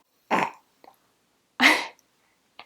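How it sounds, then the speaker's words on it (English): A baby of about four months burps twice, short throaty bursts separated by quiet, with a faint small sound in between and another brief one at the end. "That was a good burp."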